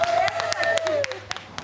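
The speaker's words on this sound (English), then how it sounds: "If you're happy and you know it, clap your hands." A small group claps hands in rhythm alongside people singing, sharp distinct claps about every quarter second, close and moderately loud under the voices.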